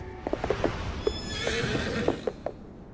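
In the beta of the video game Silver Palace, a horse lets out a loud, drawn-out whinny while its hooves clop in a quick rhythm underneath, with no talking.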